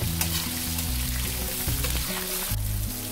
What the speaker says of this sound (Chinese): 热锅下油，油热下入茄子，中小火翻炒至茄子变软